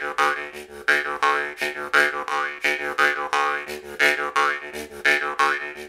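Rhythmic twanging of a jaw harp played with exhaled breath in a Viking music setting, a steady run of buzzing, wah-like plucked notes with shifting overtones, close and loud with no talking.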